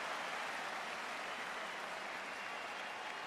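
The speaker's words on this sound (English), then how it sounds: "Listen to this crowd." A football stadium crowd at an Iowa versus Montana game roars in a dense, sustained wash of cheering and applause, loud and unbroken, with no clear talk over it.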